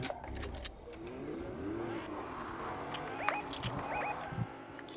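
A car drives and revs in Fortnite, its engine whining up and down in pitch at a modest level, with clicks and small chirps scattered over it and no voices.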